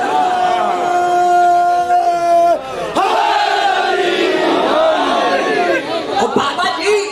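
A large crowd chants a slogan in unison at a religious gathering, loud and close, with a sustained voiced cry breaking into overlapping shouts and calls.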